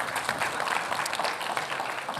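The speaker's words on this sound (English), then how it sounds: "we are gonna give him a round of applause again" Audience applause at a talk event, a dense steady wash of many hands clapping at close range, filling the whole moment without letting up.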